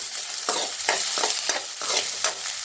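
Curry leaves and onions sauté in a pan for a cauliflower fry, a steady close sizzle broken by regular scraping stirs about every half second, with no talking.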